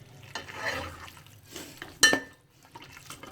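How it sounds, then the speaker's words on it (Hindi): Minced beef being stirred in a pan with salt and turmeric, soft scraping and light sizzling with a sharp clink of a spoon against the pot partway through. "तो इसको अच्छी तरह मिक्स कर लें"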